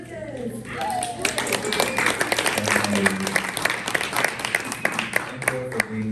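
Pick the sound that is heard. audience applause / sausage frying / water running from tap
audience applause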